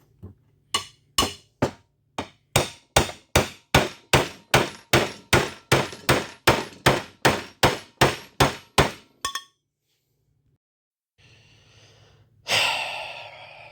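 Steady, evenly spaced hammer blows ring out on a metal minibike muffler being flattened, about two per second, followed by a pause, a faint sigh and a rustle.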